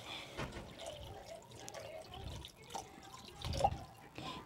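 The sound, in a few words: water being poured into the pan for fish curry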